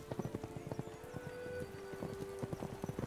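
Horses carrying riders gallop in a race, their rapid hoofbeats drumming close and steady, joined by a sustained whistle-like tone in the middle.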